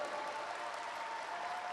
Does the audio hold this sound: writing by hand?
no